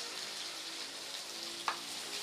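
Tomatoes and ground chili sautéing in oil give a steady, faint sizzle throughout, with one brief brighter hiss or scrape near the end.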